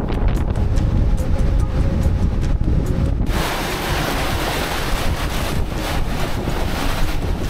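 Loud, steady rush of wind buffeting the microphone in the cockpit of a hybrid electric catamaran sailing at 10 knots, with churning water and surf noise; no voices.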